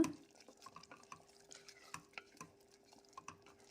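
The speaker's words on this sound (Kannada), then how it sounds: "ಎಲ್ಲವನ್ನು ಮಿಕ್ಸ್ ಮಾಡ್ಕೊಳ್ಳೋಣ" Close, quiet scraping and clinking of a spoon stirring mushroom masala in a pan, irregular strokes repeating steadily with a faint sizzle beneath.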